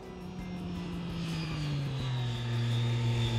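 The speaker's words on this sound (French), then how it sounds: "À la conduite, on retrouve bien entendu la sonorité caractéristique de ce fameux 3 cylindres" A three-cylinder engine revs as the throttle opens: a close, steady droning note that rises gradually in pitch and loudness over a few seconds.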